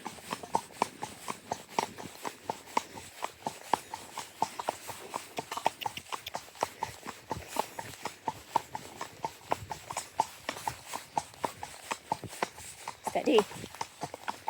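Horse hooves clip-clop at a steady walking rhythm on a hack ride, a regular, fairly close clatter of footfalls that runs throughout, with speech at moments.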